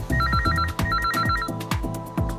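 A phone rings in a Hindi-dubbed Tamil film scene: a loud, bouncy electronic ringtone with trilling high notes over a thumping bass pattern, repeating close by with no voices.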